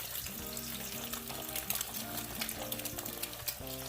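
Eggs fry in a pan for a quick snack, a soft, steady sizzle and crackle with occasional small pops, faint and continuous throughout with a low hum beneath.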